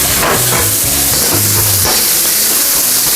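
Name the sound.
pork and snow peas stir-frying in a pan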